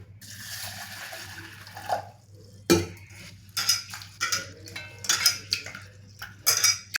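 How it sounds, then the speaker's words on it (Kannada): Moong dal is rinsed with water inside a pressure cooker, with sloshing water, grains swishing and sharp metallic clanks against the pot in irregular bursts, close and fairly loud. "2 ಸಲ ಚೆನ್ನಾಗಿ ತೊಳ್ಕೊಳ್ಳೋಣ"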